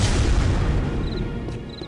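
Grenade explosion from a weapon's alternate fire in the Unreal Gold video game, a single loud boom at the start with a rumbling tail that fades over about two seconds, alone with no talk.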